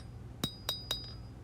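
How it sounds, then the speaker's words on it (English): Three sharp metallic half-face hammer strikes on a new anvil while forging a knife blade, evenly spaced and ringing briefly, then a fainter fourth tap, fairly distant and quiet. "you can see I'm using half face blows of the hammer"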